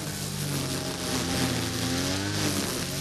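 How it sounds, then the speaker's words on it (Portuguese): A lawn mower's small engine drones steadily and close by in the empty Brinco de Ouro stadium, its buzzing, harmonic hum holding an even pitch without pause. "O motor da máquina de cortar grama era o único som que ecoava no vazio Brinco de Ouro"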